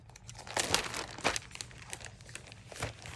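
Sheets of Christmas-themed pattern paper crinkle and rustle as they are handled close up, with soft, irregular bursts of crackling at a low overall level and no talking.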